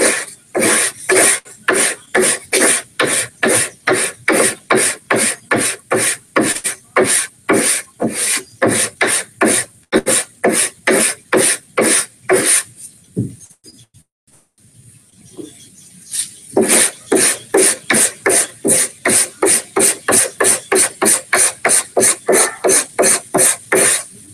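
A wooden block wrapped in sandpaper rubs rapidly back and forth on wood, a steady train of close, loud rasping strokes that stops briefly midway, then resumes at the same brisk rhythm.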